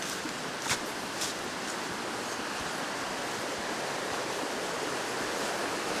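A river rushing beneath a small wooden footbridge near a monastery, a steady, loud broadband roar of flowing water that continues without a break from start to finish.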